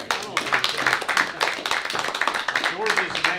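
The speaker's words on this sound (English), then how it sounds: "we owe Martin a round of applause" A small group applauding at a board of directors meeting, a short run of uneven hand claps with people talking over them throughout.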